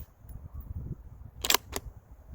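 A single sharp gunshot from a Thompson Center Compass II Compact .223 bolt-action rifle, fired at a 50-yard range, cracks loudly and briefly, followed by a shorter echo or second burst, over faint low background rumble.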